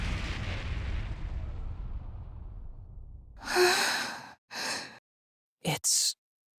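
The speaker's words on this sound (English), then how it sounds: "Sounds like screaming. And cannon fire." Heavy cannon fire in the video game Ys X: Nordics: a broad, rumbling boom that slowly fades over a few seconds, followed by short breathy sighs and gasps with no speech.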